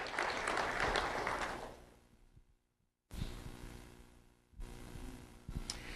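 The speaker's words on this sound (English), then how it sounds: "Let's have a round of applause for Rylan Riviezo." Audience applause at a school recognition ceremony, with a burst of clapping that fades to near silence, then resumes in two further rounds.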